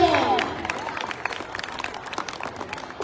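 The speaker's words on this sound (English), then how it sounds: "The thunderous applause." Children at a school sports event applaud with scattered, fairly light clapping that builds after a voice trails off at the start, the claps sounding a bit distant and uneven.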